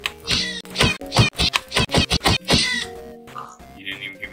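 A cat in the video game Minecraft meows repeatedly in quick, close, loud bursts, several cries in a row followed by a softer trailing meow.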